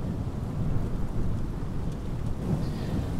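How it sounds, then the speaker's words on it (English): Rain at Berlin Brandenburg Airport in Microsoft Flight Simulator 2020: a constant low rumbling wash of rainfall with a soft, steady hiss and a slight swell near the end, with no talking. "Here's Brandenburg in the rain"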